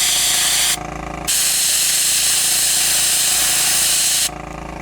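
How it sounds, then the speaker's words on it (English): Airbrush spraying paint fairly heavily and close onto model railway track rails, a steady loud broadband hiss that breaks off briefly twice as the trigger is released, then resumes. "I'm coming in on the rails with my airbrush"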